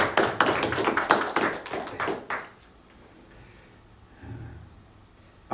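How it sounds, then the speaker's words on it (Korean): A church congregation at a Sunday evening service claps in welcome, a dense burst of hand claps lasting about two and a half seconds before stopping abruptly and leaving a quiet room. "박수로 환영하겠습니다."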